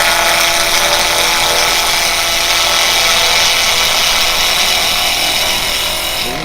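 A carbide tool cuts yew wood on a spinning lathe, making a loud, steady, close-up hiss and rasp that holds unbroken for several seconds, with no talking over it.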